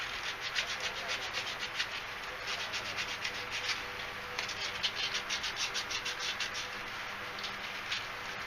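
A tube is sanded with 1000 grit sandpaper in quick, faint rubbing strokes that repeat steadily, close by, with no voices.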